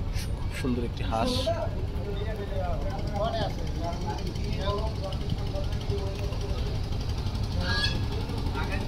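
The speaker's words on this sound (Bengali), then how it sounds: "সুন্দর একটি হাঁস" A duck calls with several short nasal honks from the riverside as a three-deck passenger launch approaches Kalaiya ghat. The calls sit over a constant low engine drone and water rumble, and they fade after a few seconds.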